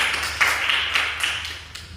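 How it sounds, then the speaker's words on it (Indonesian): Hands clap in a classroom to reward a student group's correct answer, a fairly quiet, rhythmic patter of several claps that rises and falls over two seconds. "Tepuk tangan."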